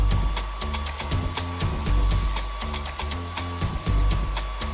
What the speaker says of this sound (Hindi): ब्लो ड्रायर काफी अच्छे से काम कर रहा है।